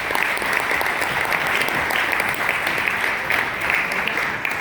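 Loud, sustained applause from a conference audience welcoming a speaker to the stage, steady clapping filling the whole stretch without pause.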